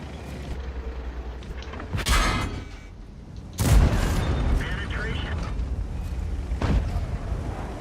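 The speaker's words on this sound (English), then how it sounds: "Bă, am tras fix în el." A tank cannon fires in a tank video game: one heavy, booming shot lands mid-clip with a short rumbling tail, after a smaller blast earlier, over steady engine-like background noise while players talk.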